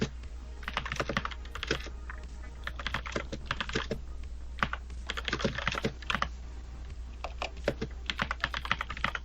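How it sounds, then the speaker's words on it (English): Rapid, continuous typing on a computer keyboard, with clusters of key clicks and brief pauses over a steady low hum. "Mad typing and FaceTiming going on."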